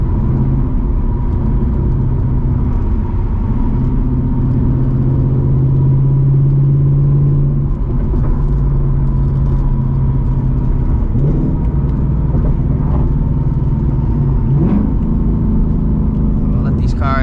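A Ford Mustang GT S650 with active exhaust and an H-pipe cruising, a loud steady engine drone and rumble inside the car, with voices talking over it.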